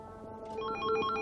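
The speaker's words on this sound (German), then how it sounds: "klingelt bei Eichels persönlichem Referenten das Telefon" An office telephone in a German government ministry rings, with a short repeated electronic trill at moderate level and no voices over it.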